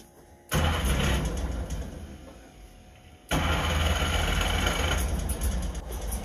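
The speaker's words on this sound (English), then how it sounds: "Who wouldn't want to hear what a two-stroke car sounds like? Should idle pretty good." A two-stroke car engine fed through a carburetor and left in neutral cranks and catches, then runs loud and close. It dips for a moment and surges back into a steady, buzzy idle.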